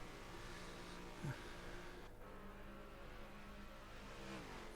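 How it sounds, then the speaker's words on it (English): A GT3 racing car in a sim racing broadcast at Spa revs and whirs through gear changes, faint and thin under a steady low drone, with a brief louder burst early on. "Oh, that car just sounds fantastic."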